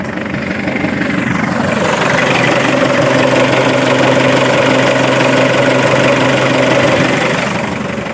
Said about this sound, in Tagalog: tingnan natin kung naka-on ang ating radiator fan